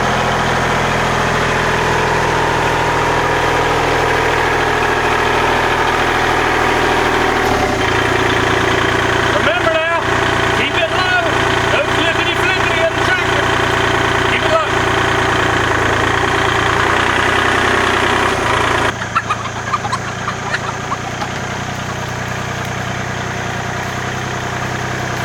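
A tractor idles near a chicken coop, giving a steady, loud low rumble that runs through the whole stretch while a person talks over it.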